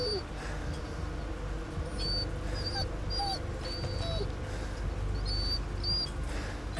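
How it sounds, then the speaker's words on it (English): Dogs in the Blair Witch video game whimper and yip in short high whines scattered over a low ambient drone, a few cries rising and falling across several seconds at moderate distance. "Dogs."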